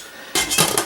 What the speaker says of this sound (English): So I'm just gonna put the top on.